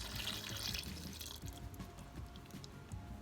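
Lye water solution is strained into oils and butters for soap making, a soft, steady trickle of liquid pouring and dripping, quiet and close, with faint splashing throughout and no talking.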